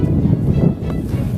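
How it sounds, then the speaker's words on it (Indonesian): A cool wind blows across the Mount Sumbing hiking trail, a continuous low buffeting rush against the microphone lasting the whole moment, with no voices. "di sini kami juga disambut oleh angin yang cukup sejuk"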